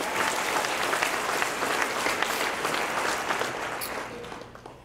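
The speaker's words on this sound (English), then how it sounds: "Let's give Brian Meador a big round of applause" A banquet crowd at a college baseball awards dinner gives sustained applause, dense and even at first, then thinning slightly toward the end.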